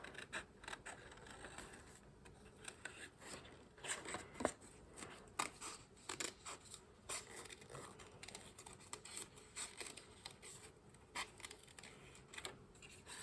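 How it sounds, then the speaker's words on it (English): Scissors snipping around printed word shapes cut from paper for a handmade garden-themed card, a close, quiet series of irregular short snips and paper rustles throughout. "this seems to be one of my favorite things at the moment, is just cutting out the shape of the words."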